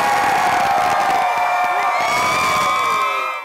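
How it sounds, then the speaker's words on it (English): A group of leaders at a youth games event cheers loudly together, high shouts and whoops blending into a continuous roar that holds strong before cutting off abruptly. "Start cheering really loud."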